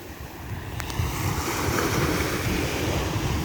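Ocean surf rolls onto the sand at Caspersen Beach on a bright day, a continuous wash of breaking waves with some wind buffeting the microphone, with no voices.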